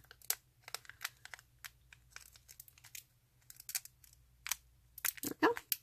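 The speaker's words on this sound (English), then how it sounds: "Okay, so this one I am going to cut the seal that I created" Scissors snip and tear through the sealed foil pouch of Color Street glitter polish strips, giving a series of crisp, close crinkling and cutting sounds in short irregular bursts over a quiet background.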